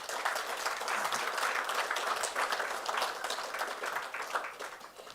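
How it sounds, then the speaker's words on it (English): An audience at a South African under-19 cricket capping ceremony gives a sustained round of applause, dense clapping that stays even and fairly loud before tapering slightly at the end. "So for the final time, please give yourselves a round of applause."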